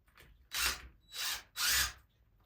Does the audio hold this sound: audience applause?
no